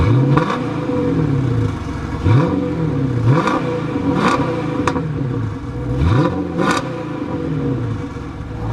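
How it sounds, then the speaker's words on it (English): A Dodge Charger 5.7-liter HEMI V8 with mid muffler delete revs repeatedly on a cold day, several sharp rising blips that fall back to a rumbling idle between each, loud and close. "Let's give her some revs."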